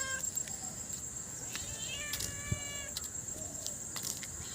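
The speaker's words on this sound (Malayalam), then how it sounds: "ഇത് ഒരു കരിമ്പൂച്ച വന്നിട്ട് വെറുതെ ശബ്ദം ഉണ്ടാക്കി." Black cat meowing near the main gate of a house, with a few thin, drawn-out wails rising over a steady hiss of outdoor ambience.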